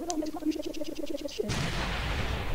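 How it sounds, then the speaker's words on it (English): Cartoon explosion: a rhythmic series of short popping beeps builds for about a second and a half, then breaks into a loud sustained noisy blast with rumbling roar. "And it exploded!"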